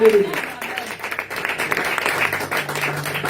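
A church congregation applauds and cheers Jesus, steady clapping from a crowd blended with voices calling out over the applause.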